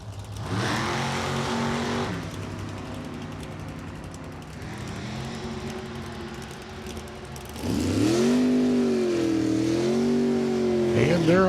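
Two drag race cars, a Ford Roadster and a Mustang Roadster, rev their engines loudly at the raceway, with a wavering, warbling pitch that surges into a louder, harsher roar partway through and holds to the end.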